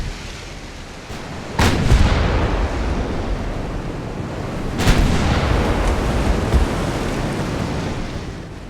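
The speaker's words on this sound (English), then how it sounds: "Fire all cannons!" Naval cannons fire in the warship battle game Ultimate Admiral Dreadnoughts, with two heavy booming salvos whose rumble rolls on over a constant roar of sea and battle ambience, loud and without speech.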